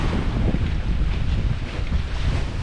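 Strong wind buffets the microphone on a sailboat under way at sea in about 14 knots of breeze, a loud continuous low rumble with faint water rush and no speech.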